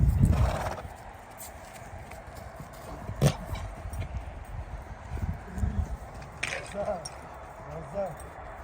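A horse whinnies amid the clip-clop of hooves and shuffling, with outdoor background noise and a faint jingle of tack.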